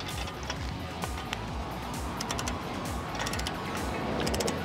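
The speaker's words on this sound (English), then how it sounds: "Thing we're gonna do is torque the wheels, and you want to use a star pattern." A ratchet clicks steadily and close by while lug nuts are torqued on the wheels of a Kendon folding motorcycle trailer, its rapid pawl ticks running almost without a break.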